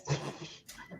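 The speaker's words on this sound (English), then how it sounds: "He's getting the dogs because the dogs got in here." Dogs close by give a quick whimper and yip, a short burst of soft whining and then a second brief cry, with no talk.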